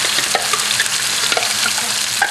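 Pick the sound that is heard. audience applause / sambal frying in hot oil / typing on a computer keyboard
sambal frying in hot oil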